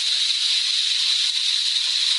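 Minced meat fries in oil in a hot pan, giving a loud, steady sizzling hiss that runs unbroken for a couple of seconds with no talking.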